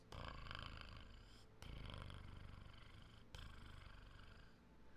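A person imitates a cat's purr with a low, rolling, continuous rumble. It is quiet and close, broken by two brief pauses over about five seconds.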